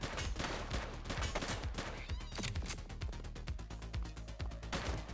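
Gunfire in The Precinct police action game, rapid fusillades of overlapping shots in a loud, dense burst that turns into quick regular automatic fire toward the end.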